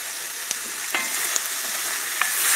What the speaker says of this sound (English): It's sizzling. And that's what you want them to do.